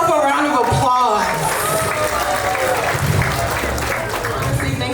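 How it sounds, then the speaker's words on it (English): At a graduation party, a crowd of guests claps loudly and continuously with scattered cheers while voices talk over the applause. "Give yourself a round of applause."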